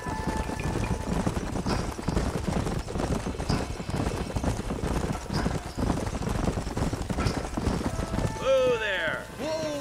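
Horses' hooves clip-clop in the Red Dead Redemption video game, a steady rhythmic patter running throughout under dense game sound, with a horse whinny rising near the end.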